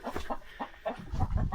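A rooster in a rural village yard clucks in a quick, steady series of low, close calls that grow slightly fuller toward the end, with no talking.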